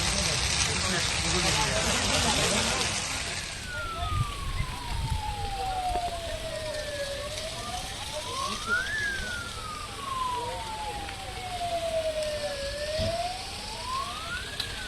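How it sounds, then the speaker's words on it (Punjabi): A fire engine siren wails at a wheat field fire in Kharar, rising and falling in slow sweeps, moderately distant, over crackling background noise and voices. "ਫਾਇਰ ਬ੍ਰਿਗੇਡ ਦੀ ਜਿਹੜੀ ਗੱਡੀ ਪਹੁੰਚ ਚੁੱਕੀ ਹੈ"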